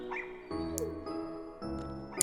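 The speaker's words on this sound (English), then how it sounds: "Ton of dogs." Several puppies in Kingdom Hearts give short, high, sharp barks and yips at intervals, layered over steady background music.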